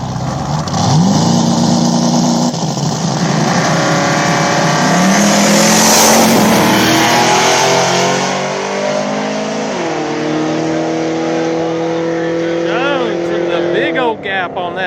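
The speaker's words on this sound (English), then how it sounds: "Nitrous Mustang coming up, taking on Dave Jones in the Turbo Camaro" A nitrous-fed Ford Mustang and a turbocharged Chevrolet Camaro race side by side on a small-tire drag strip, engines snarling and revving loud and near, their pitch climbing in repeated surges. An announcer talks throughout.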